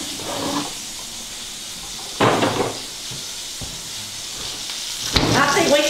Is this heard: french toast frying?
yes